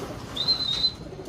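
A pigeon calls once with a thin, high, sustained note over low background rumble, fairly close and moderately loud.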